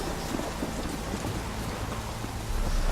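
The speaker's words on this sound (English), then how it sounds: "So now it's starting to rain. And now it's raining properly in a proper thunderstorm." Steady rain with low rumbling thunder from a thunderstorm in the video game The Witcher 3, a dense continuous wash of downpour that swells slightly louder near the end, with no talking.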